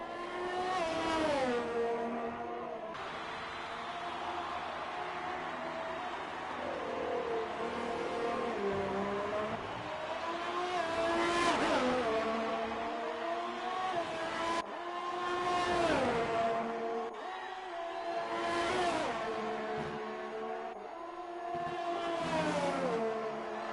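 Race cars in an Australian Grand Prix in a racing video game, engines droning and revving through repeated rising and falling pitch sweeps, continuous and loud with no talking.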